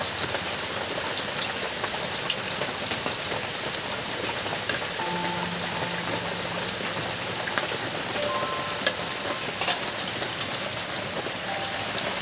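Steady rain pours down continuously on an outdoor surface while chicken pakoras are being fried, a dense even hiss with scattered drops tapping throughout and no speech.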